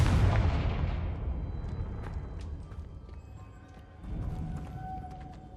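A Confringo fire spell in the video game Hogwarts Legacy bursts with a deep, booming explosion that rumbles and slowly decays, followed by a quieter second rumble and faint crackling debris.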